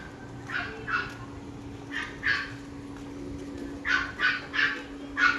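Several dogs bark in short bursts at a distance, a few scattered yaps followed by a quicker cluster, over a low steady hum.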